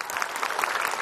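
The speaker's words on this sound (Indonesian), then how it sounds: "Tepuk tangan buat Ustadz Maulana." Audience applause for Ustadz Maulana at a Ramadan Islamic TV show, steady dense clapping from a crowd filling the whole short moment without pause.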